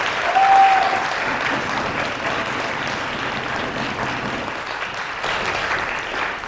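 A steady, full round of applause from a crowd at a final-round competition event, many hands clapping evenly throughout.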